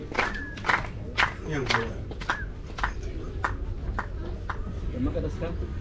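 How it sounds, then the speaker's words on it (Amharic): Scattered audience clapping at a certificates ceremony, sharp individual claps spaced irregularly beneath someone speaking loudly into a microphone. "አረ ሞራል አጨብጭቡለት።"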